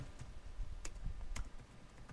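Typing on a computer keyboard is heard as faint, scattered key clicks over a low background hum.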